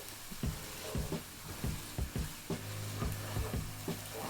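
Onions frying in oil in a pan for shrimp and grits, a steady sizzle broken by rhythmic scraping stirs about twice per second, close and moderately quiet.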